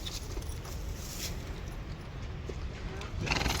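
Horses shift and stamp at a farrier's yard where horseshoes are being made, with hoof clops and restless movement, and people talking nearby.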